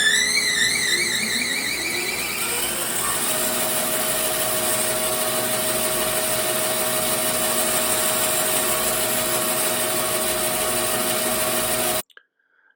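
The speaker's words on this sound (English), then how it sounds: "I'm going to cut some reliefed slots in here so I can put some wedges in here" Power tool cutting relief slots for wedges into a wooden mallet handle, running as a steady loud whine for about twelve seconds with a shifting pitch at the start, then cutting off abruptly.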